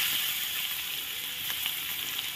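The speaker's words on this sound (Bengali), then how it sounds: "আলুটা দিয়ে দিলাম, একসাথে ভাজা হয়ে যাবে।" Chopped potatoes fry with garlic for a dhekia greens bhapa, giving a steady, close, broadband sizzle that holds evenly throughout with no talk.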